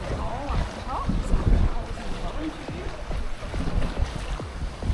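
Wind buffeting a microphone aboard a Thai long-tail boat out among islands, a rough continuous rushing with low gusty thumps, voices talking faintly beneath.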